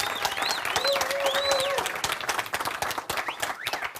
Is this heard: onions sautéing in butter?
no